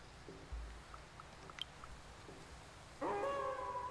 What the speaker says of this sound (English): The keening turns into a howl of joy.